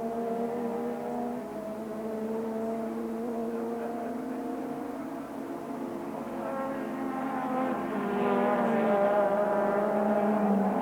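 A Ferrari Formula 1 car at the 1986 Austrian Grand Prix, during a pit stop for refuelling, gives off a droning, harmonic engine whine that rises in pitch and grows louder near the end.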